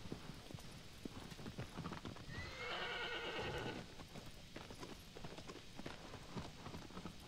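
Agro, the horse from the video game Shadow of the Colossus, gives one loud neigh in the middle, framed by steady clip-clopping hooves and a soft patter like rain.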